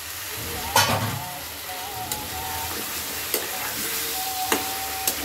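Washed taro pieces sautéing on their own in a pan, a steady close sizzle broken by sharp spatula scrapes and clacks against the metal every second or so, with no talking.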